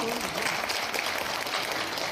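Audience clapping at a swearing-in ceremony for the new executive committee of the Telangana State Padmashali association, steady and moderately distant, with talk over it.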